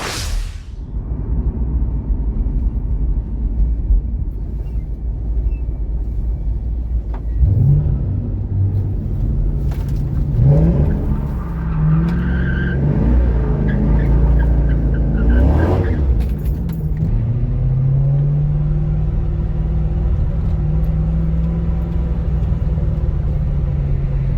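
A Chevrolet C5 Corvette's engine rumbles and revs up while being driven on twisty roads, rising and falling through accelerations and gear changes heard from inside the car, with no talking.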